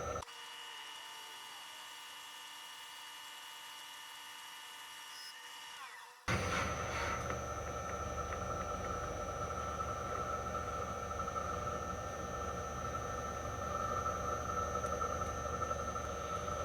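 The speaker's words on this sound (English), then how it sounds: "So let's take a 5 thousandths cut." A mill-turning cut of five thousandths runs on a K&T 2D rotary head mill. A quiet, steady motor whine jumps about a third of the way in to louder, sustained cutting noise with bright, constant tones.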